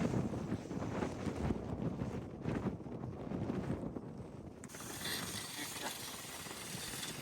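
Strong wind blows across an open farm field where seedling work is underway, buffeting the microphone in a steady, rough rush that shifts in tone partway through.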